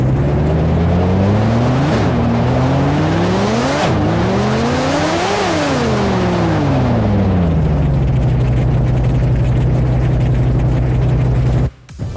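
A synthesized car engine effect revs up loudly in rising sweeps, each cut off by a gear shift before climbing again, then eases down and settles into a steady idle before stopping abruptly.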